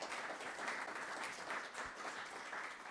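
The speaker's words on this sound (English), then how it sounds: "let's give them a round of applause" An audience at a resilience and mitigation panel event applauds the panelists, a steady dense wash of clapping heard from a distance and fairly faint, with no voices over it.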